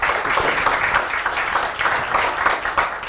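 A round of applause from a seated audience at a Dare to Dream networking meeting. Many hands clap densely and steadily at moderate loudness for about three seconds, with no voices standing out.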